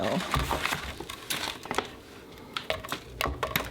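Set rapid-set cement-soaked towel decor snapped and crumbled by hand, giving close, crisp crackling breaks in irregular bursts over a gritty rustle.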